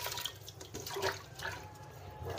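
Soaking water, poured slowly off khapli wheat in a kitchen, splashes in a steady, soft, continuous trickle.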